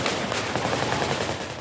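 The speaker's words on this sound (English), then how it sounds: "with the sound of heavy gunfire close by" Heavy gunfire rattles close by in a dense burst of rapid shots, loud and unbroken, without any talking.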